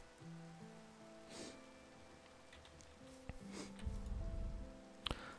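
Rain patters steadily in the Minecraft modpack All The Mods 3, a soft continuous hiss under tonal game music, with a few sharper ticks and thumps standing out.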